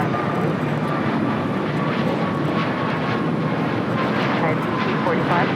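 Airliner taking off on runway 25 right at LAX, a loud continuous jet engine roar filling the scene, with faint radio chatter mixed underneath.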